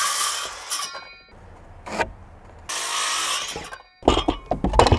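A power saw cuts 32-inch wooden pieces for a window sill, giving several short, loud bursts of whining cutting noise separated by quiet gaps, close by and with no talking.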